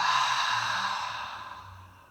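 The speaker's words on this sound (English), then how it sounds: "Opening the mouth, exhale." A long, breathy open-mouth exhale during a yoga breathing exercise, loud and close at the start and gradually fading over about two seconds, with no speech.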